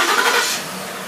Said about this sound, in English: To crank it, you hit the button twice. Horn honks, the engine cranks.